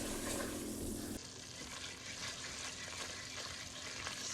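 Flour and oil roux cooking in a pan on a stove, a steady quiet sizzle and fry hiss that continues evenly throughout.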